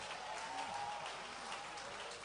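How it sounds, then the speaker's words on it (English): Continuous applause from a church audience greeting a pastor onstage, a steady, fairly faint wash of many hands clapping, with some murmur underneath. "Please keep clapping, keep clapping."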